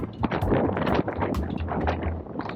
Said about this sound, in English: So it's really windy today. It's probably hard to hear me, a little too windy.